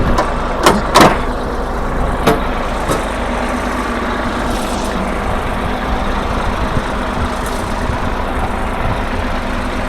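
A steady low diesel rumble from an idling Isuzu FVM ten-wheel truck with a 300-horsepower engine and a crane, with a few sharp clanks and knocks near the start.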